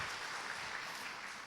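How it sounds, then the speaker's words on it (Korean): Audience applause at a church health seminar, a brief spell of faint, steady clapping from a gathered congregation, heard from a distance without talk. "박수 한번 주세요."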